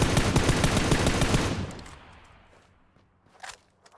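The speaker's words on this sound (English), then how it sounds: "Couple of pot shots at the end." A rapid burst of automatic gunfire from a PUBG match rattles loudly for about a second and a half, then trails off into quieter reports and a few faint scattered shots.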